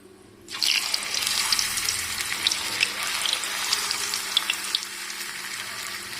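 Potato slices drop into hot oil on a medium flame for homemade chips, bursting into a loud, steady crackling sizzle that holds evenly after a sudden start, with no voices over it.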